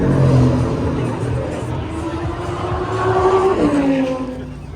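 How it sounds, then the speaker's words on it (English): Racing-version Corvettes run at Watkins Glen during the Six Hours of The Glen, with an engine note rising and falling as cars pass, heard under crowd babble and nearby chatter. "I've always enjoyed these racing versions of these Corvettes."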